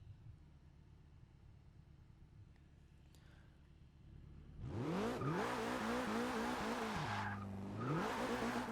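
Porsche 944 Turbo wheelspin in Forza Motorsport 6, starting after a quiet idle with a sudden loud burst of engine revving and screeching tires, the pitch rising and falling through gear changes before surging again.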